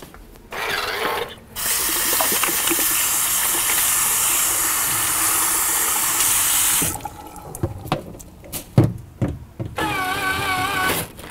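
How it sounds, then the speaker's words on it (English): A tap runs into a sink during a lecture while someone rinses their fingers, a steady loud rush of water for several seconds that then stops, followed by scattered clatter and handling noises. "Let me just wash my fingers slightly."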